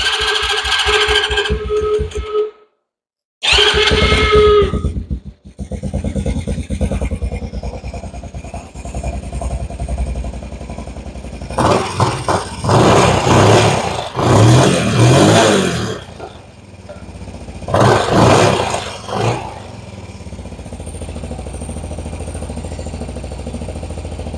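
Honda TRX 90 ATV engine, freshly fuelled with its choke on, cranking over, catching and then running loud and close, with several sharp revving bursts before settling back to a steady idle.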